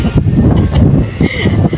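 Gusty wind on a hilltop buffets the microphone, a loud rumbling roar that swells and dips with no voices.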